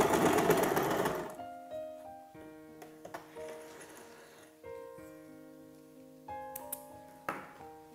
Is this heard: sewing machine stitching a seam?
yes